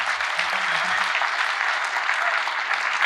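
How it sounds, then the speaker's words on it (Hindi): Sustained applause from an audience at a live finance masterclass, steady and dense clapping filling the whole stretch without letting up. "सबसे पहले तो आप सबके लिए एक बहुत जोरदार तालियां हो जाए।"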